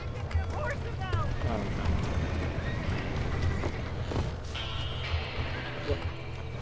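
Horses in the Western video game Red Dead Redemption, with hoofbeats and snorts mixed into a dense, steady wash of game noise, water and voices, while people talk throughout.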